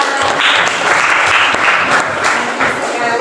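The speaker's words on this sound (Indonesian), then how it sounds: "tepuk tangan untuk Intan." A class of students applauds together in a classroom, with loud, dense clapping that continues for about three seconds.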